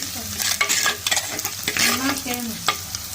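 Fresh curry leaves crackle and sizzle in hot oil in a pan for a Kerala fish curry, with bursts of spattering and stirring scrapes close by.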